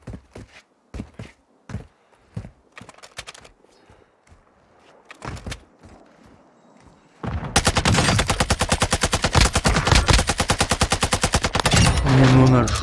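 TAQ-56 rifle fire in the video game Modern Warfare 2: after scattered footsteps and short thuds, a loud sustained burst of rapid automatic gunshots rattles on for several seconds, close and dominant.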